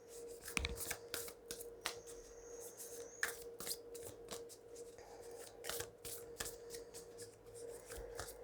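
A deck of oracle cards is shuffled close up for a love and angelic guidance reading, giving a steady run of soft riffling and slapping card sounds with no talk.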